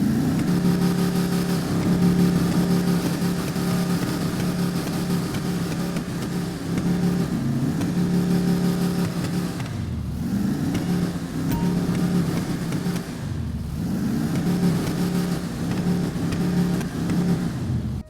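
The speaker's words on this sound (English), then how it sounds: "We're gonna do a sound test and a review. All right, guys, let's see what it sounds like first of all." Vapid Blade car engine in GTA Online revving steadily and loudly, a continuous droning growl that dips briefly twice as the throttle eases, with no talking over it.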